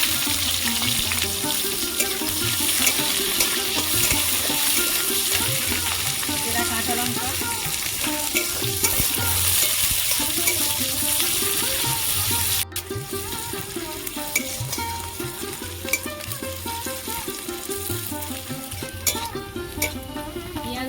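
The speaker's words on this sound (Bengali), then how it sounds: "তেল গরম হয়ে গেছে দুটো তেজপাতা পাঁচ ফোড়ন ফোড়ন হয়ে গেছে পেঁয়াজ কুচি দিয়ে দেবো" Bay leaves, panch phoron and chopped onion fry in hot oil, a loud, continuous close-up sizzle with stirring scrapes, running unbroken from start to finish.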